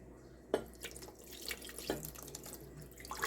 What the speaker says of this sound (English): And I'm gonna add some water.